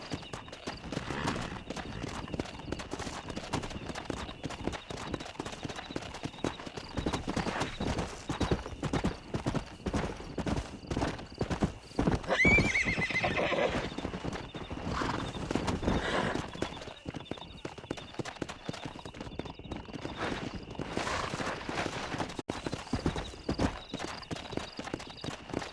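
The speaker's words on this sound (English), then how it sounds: "We got some fine horses." Horses in Red Dead Redemption gallop with dense, rapid clip-clop hoofbeats, broken by a loud neigh midway and another near the end, over game ambience.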